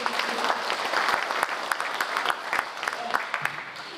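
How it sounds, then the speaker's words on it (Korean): Audience applause at a memorial ceremony, steady dense clapping with a few sharper individual claps standing out, continuing throughout. "다시 한번 박수 좀 부탁드립니다"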